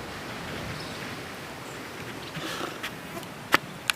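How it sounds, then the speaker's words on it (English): Bongo bee buzzing faintly in an outdoor Jamaican island setting, a soft steady insect drone over background hiss, with a couple of brief sharp clicks near the end. "A bongo bee, you know, my people."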